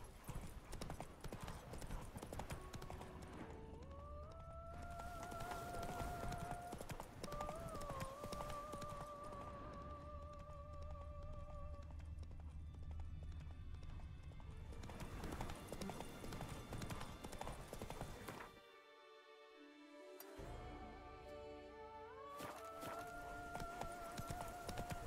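In The Witcher 3, the horse Roach runs with loud, rapid clip-clop hoofbeats that continue almost throughout, alongside game music and a brief neigh, with a short pause near the end.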